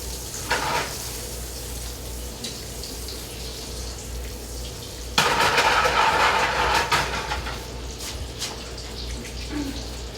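Butter sizzles in a pan with regular cooking oil: a steady low frying hiss that swells into a louder crackling burst midway, then settles back.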